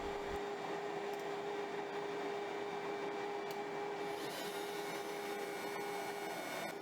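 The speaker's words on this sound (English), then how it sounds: "we then are prompted to set the speed of the router and begin the machining process" A CNC router fitted with a bolt cutting bit machines a cigar ashtray, a faint steady whine and hiss with a constant high tone throughout, its pitch shifting slightly partway through.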